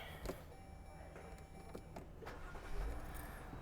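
A 2020 Chrysler Pacifica Voyager is started with the key, giving a faint click and a brief starter crank before the engine settles into a quiet, steady idle close by.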